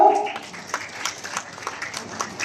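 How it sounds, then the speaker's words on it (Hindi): Scattered clapping from an audience at an official ceremony after a lamp-lighting inauguration, following a brief voice at the start and rising in light, uneven bursts of moderate loudness. "तालियां आपकी तरफ से जरूर हो।"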